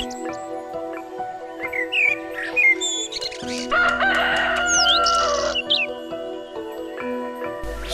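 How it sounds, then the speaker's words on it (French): A rooster crows repeatedly in the Balinese countryside near a bamboo- and palm-surrounded villa with a pool, loud and fairly close, with other birds chirping around it. "Ce brave coq nous rappellera de temps à autre que nous sommes à la campagne."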